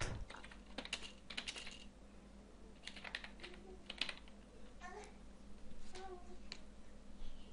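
Typing on a computer keyboard while entering a label for a birth-year variable, steady clusters of close key clicks over a low background hum, with no speech.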